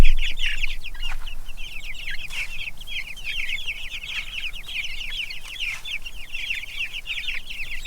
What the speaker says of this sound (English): the meat birds, the Cornish crosses, and how fast they grow